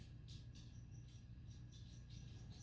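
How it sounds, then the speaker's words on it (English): Crickets chirping near a home, heard as faint, repeated high trills in short bursts over a steady low background hum, with no one talking. "And I apologize if you hear crickets. They won't shut up today."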